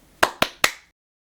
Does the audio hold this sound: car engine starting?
no